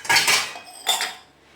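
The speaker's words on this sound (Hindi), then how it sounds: "लग गई हूँ मैं यहाँ पर अपने बर्तन साफ़ करने" Dishes and utensils clatter at a kitchen sink during washing, with two bursts of clinking near the start, a quieter stretch, then another burst of rattling before fading to faint clinks.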